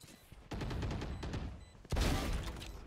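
Close, sharp gunshots from the tactical shooter Valorant: two loud bursts about a second and a half apart, each followed by rapid crackling echoes.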